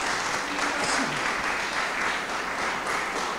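Sustained applause from a church congregation fills the space, dense and steady throughout, with a faint voice barely audible underneath.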